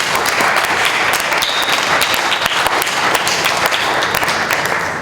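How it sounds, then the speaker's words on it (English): Audience applause for Chairwoman Penny Hess at a live Uhuru Movement event, a dense, steady wash of many hands clapping loudly and continuously, tapering slightly at the end. "Let's give her another round of applause."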